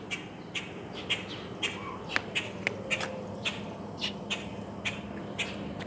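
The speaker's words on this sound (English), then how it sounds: "Yep, he's just chirping." An injured baby bird chirps outdoors in a tree, short faint tweets repeating at a steady pace about twice a second over quiet background noise.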